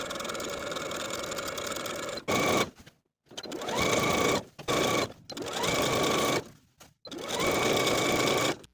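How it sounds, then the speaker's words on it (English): A sewing machine top stitches a hem around a shirred puff-sleeve top in a series of close, loud runs of rapid stitching, separated by short silent stops as the fabric is turned. "Then we can top stitch that hem in place all the way around, sewing close to those finishing stitches"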